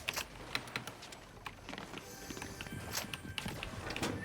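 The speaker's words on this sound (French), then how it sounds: "je vois des bruits de pas partout" Footsteps patter quickly and fairly faintly in the Fortnite video game, a run of light, irregular taps under a busy bed of game sounds, with no voices.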